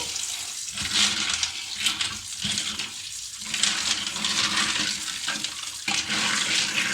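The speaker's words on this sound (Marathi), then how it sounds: "शिंपले हे तिसरे आपल्या धुवून घेऊचे आहेत आणि हे चांगले 3-4 पाण्यातून आपल्या धुवून काढूचे आहेत शिंपले." Clams being rinsed by hand in several changes of water to remove sea sand, a steady close splashing and sloshing with tap-like running water throughout, no talking.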